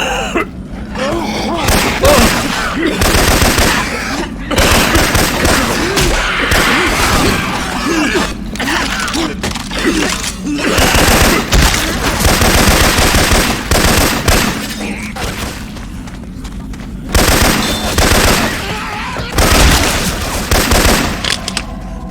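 Left 4 Dead 2 gameplay with Syphon Filter weapon sounds brings loud, dense bursts of rapid gunfire and repeated shots in rolling volleys, broken by brief pauses, mixed with game effects and occasional voices.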